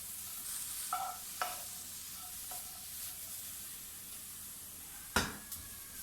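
Spices and tomato fry in a pan while being stirred, with a faint steady sizzle broken by a few sharp scraping clinks of the spoon against the pan, one louder near the end.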